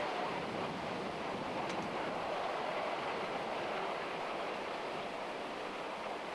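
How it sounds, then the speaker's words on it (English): A train running on a railroad winding through lush forest past abandoned mines, a steady broadband rumble and rush held at an even level from start to finish, with no voices. "The railroad winds its way through the lush forests, passing several abandoned mines and their tailing piles."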